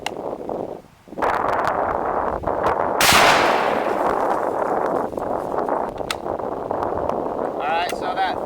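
A single loud, sharp rifle report from a 7.92x57 firing a 150 grain Speer hand load with RL-15 powder, cracking out over steady outdoor wind noise and rumble at a range, with a voice nearby.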